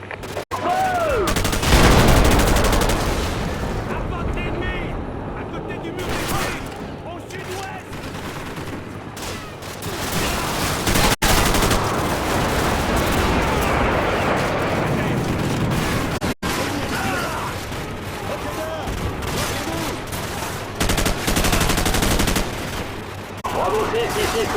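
Dense gunfire and artillery blasts from the Modern Warfare video game, with bursts of automatic fire and heavy booms rolling almost continuously, loud and close, while soldiers' radio voices talk in French over the battle.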